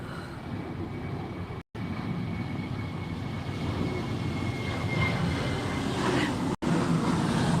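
A fixed-wing airplane passes low overhead near Myrtle Beach International Airport, its engine roar steady and loud throughout, swelling slightly toward the end with two brief dropouts.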